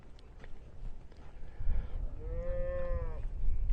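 Commercial crossbred cows in a river pasture, a single drawn-out moo rising mid-way above quieter low rustling and shuffling, fairly close.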